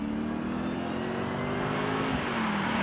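A 750hp 1966 Pontiac 2+2 engine revs up and pulls hard, its pitch climbing steadily as it accelerates, loud and close with no talking.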